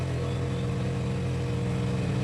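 A motorcycle is being worked on during an oil change nearby, and its engine gives a steady, rough mid-pitched drone with no talk over it.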